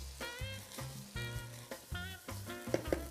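Toasted rice for a courgette risotto is deglazed with white wine in a hot pan, bursting into repeated sharp hissing sizzles in uneven pulses as it is stirred, up close with no talking.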